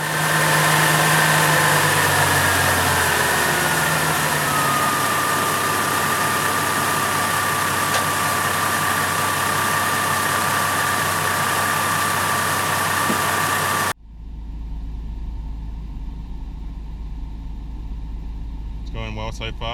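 A Holden VE Commodore engine runs at a steady idle after a timing chain replacement, a constant low hum and rattle for several seconds before the sound cuts to a quieter, muffled hum.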